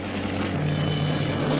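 Steady whirring rotor and engine drone of a 1958 helicopter swinging low over water, fairly loud and continuous, with a low hum underneath.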